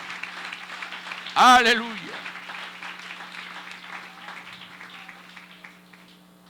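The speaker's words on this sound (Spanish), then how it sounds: "Un aplauso fuerte al Señor de la gloria." A church congregation claps with a soft, steady texture behind a voice that calls out briefly and loudly near the start, while a low steady hum runs underneath.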